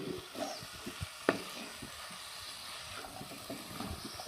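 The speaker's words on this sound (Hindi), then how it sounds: "मीडियम फ्लेम पे इसको सिर्फ फ्राई करना है" Chicken and vegetable bun stuffing with capsicum frying uncovered in a pan over a medium flame, a soft low sizzle broken by occasional clinks and scrapes of stirring.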